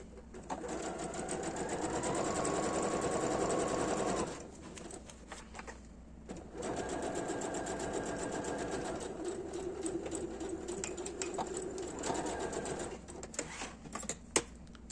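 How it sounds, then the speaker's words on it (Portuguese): A sewing machine stitches along the edge of a small fabric pouch in two long runs of steady rapid whirring, with a pause and light handling clicks between, as pigeons coo faintly in the background. "passa uma costurinha bem na beiradinha"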